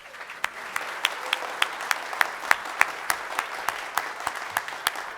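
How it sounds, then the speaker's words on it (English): Audience at a Future Cities program applauds, a sparse, fairly slow clatter of claps with a few sharp, distinct hand strikes standing out at a steady pace, moderately loud throughout. "Please thank them with our applause."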